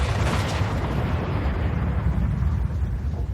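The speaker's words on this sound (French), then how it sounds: "je vais lui demander un bruit d'explosion de flamme" AI-generated fireball explosion effect: a dense, loud, low roaring blast that holds heavily for over three seconds with a rumbling, crackling texture, alone and without talk.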